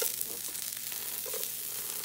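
Roasted garlic butter sizzles on a hot griddle, making a continuous soft crackle and hiss with faint pops, fairly quiet and with no voices over it.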